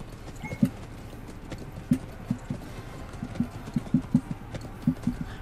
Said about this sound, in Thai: ม้าอยู่ทางขวาเพียบเลยอยู่ใกล้ๆจุดเอ